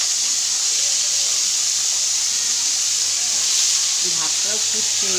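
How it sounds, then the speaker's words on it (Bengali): Potatoes and eggplant fry in a big wok, giving off a loud, steady sizzle and hiss from start to finish. A faint voice comes in briefly near the end. "এই আলু বেগুনটা এর মধ্যে একটু ভেজে নিই"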